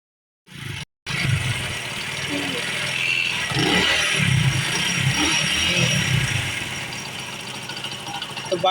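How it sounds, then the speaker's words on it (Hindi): A motorcycle engine, just fitted with a tightened spark plug, gives a brief first burst, cuts out, then catches and settles into a steady, loud idle that runs throughout. "तो बाइक हमने स्टार्ट कर ली है,"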